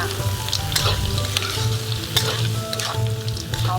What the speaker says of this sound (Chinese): 再次给它快速的翻炒一下